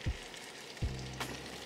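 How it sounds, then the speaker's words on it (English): Onions and a head of garlic hit melted butter in a skillet, giving a steady close sizzle, with a couple of soft thumps as the pieces drop in. "To that, we're gonna add our two onions and our head of garlic."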